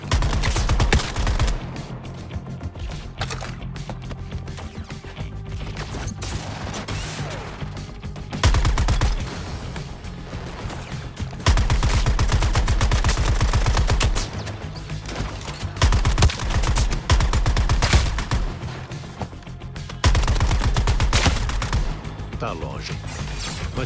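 Intense gunfire in Suicide Squad: Kill the Justice League, with bursts of rapid automatic shots and heavy blasts coming in waves, loud and continuous for the whole stretch.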